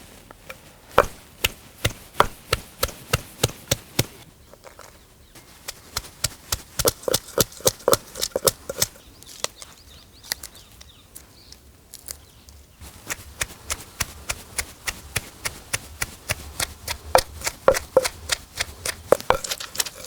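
Green chillies, ginger and garlic crushed into a paste, a steady run of sharp, evenly spaced pounding or chopping strikes with a brief pause midway, close and fairly loud with no talk.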